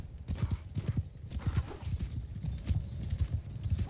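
Horses galloping across a battlefield in Bannerlord, a rapid, uneven drumming of hooves with faint whinnies and battle noise, up close and quite loud.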